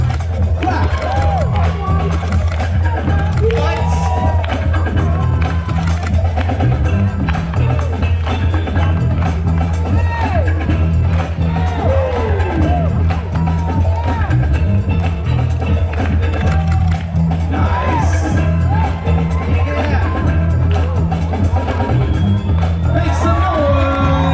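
Crowd at a breakdance battle cheering, whooping and shouting continuously over a pounding bass-heavy beat, with loud babble throughout.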